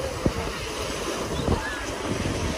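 Waves wash steadily onto a sandy Lake Michigan beach, a constant rushing surf mixed with heavy wind buffeting the microphone and a few faint, brief knocks.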